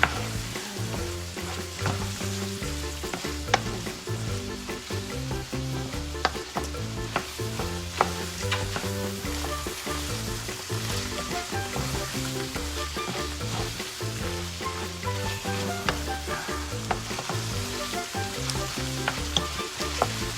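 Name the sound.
stirring tomato in a sizzling pan for stuffed bell peppers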